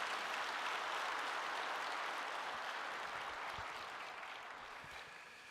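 A church congregation applauding together, a dense, steady wash of clapping from many hands in a large room that holds even and then slowly fades toward the end.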